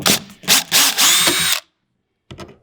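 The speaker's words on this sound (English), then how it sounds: "I drill the two top holes" A power drill bores holes into a FeelFree Lure 11.5 V2 kayak, loud close whining bursts of several seconds, then a pause and one short final burst.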